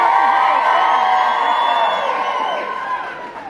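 Convention crowd at the VegasCon 2016 Saturday night show cheering and whooping loudly, a dense blend of high voices that tapers toward the end.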